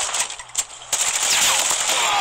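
Rapid bursts of automatic gunfire in Call of Duty Mobile crackle in quick succession, sharp and close, followed by a sustained hissing rush.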